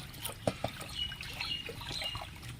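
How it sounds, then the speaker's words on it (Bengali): Hot water trickles and splashes over raw chicken pieces being rinsed of their skin for a Bengali chicken curry, a steady soft dribble broken by a few brief wet splashes. "এখন এটাকে গরম জল দিয়ে এই সব চামড়াগুলো সব এটাকে পরিষ্কার করে নেবো"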